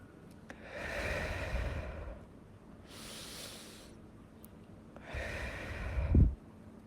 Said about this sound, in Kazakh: Терең тыныс алыңыз.